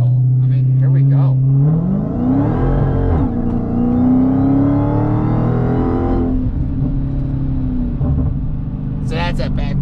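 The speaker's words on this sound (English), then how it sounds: "So that's that backfire I tell you about between gears." Supercharged 6.2-litre Dodge Challenger Hellcat revving hard close by, its engine pitch climbing through gear changes with rough crackling bursts between shifts, loud throughout with brief voices near the end.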